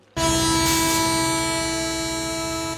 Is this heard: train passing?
yes